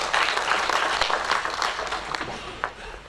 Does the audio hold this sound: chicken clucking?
no